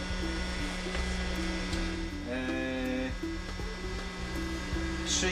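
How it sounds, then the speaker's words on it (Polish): A heat gun runs off a Fossibot F2400 portable power station, giving a steady, loud airflow roar with a constant electrical hum beneath it, unbroken and alone throughout. "Co prawda teraz słychać bardziej opalarkę"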